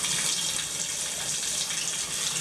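A shower faucet turned fully on runs as a loud, steady rush of water, unbroken throughout and with no talk.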